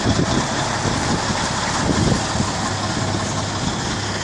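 A tractor-trailer truck's engine idles steadily as the rig pivots while backing toward a dock, a close, continuous low rumble with a slightly rough texture and no talking.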